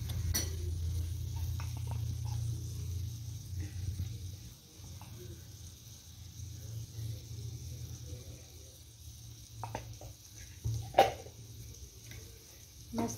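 Flour being sautéed in ghee in a pan over low heat, with a soft, steady sizzle and the occasional scrape of a spoon, close and fairly quiet.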